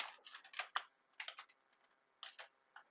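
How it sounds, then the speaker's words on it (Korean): Computer keyboard keys are pressed, including Ctrl and the space bar, in short bursts of soft, close clicks separated by brief pauses. "컨트롤하고 스페이스바를 누르면 영어 한글이 바뀝니다"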